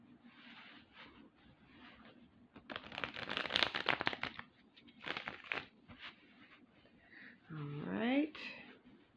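Cards are shuffled in a couple of quick, crisp riffling bursts up close, with quiet gaps between them and a brief squeaky sound near the end.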